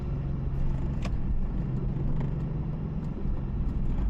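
A BMW E46 M3 wagon drives with its engine producing a steady, loud low rumble heard from inside the car, with a faint whining tone running through it.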